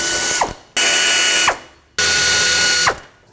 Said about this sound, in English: Now we can unbolt the wiper transmission from the vehicle.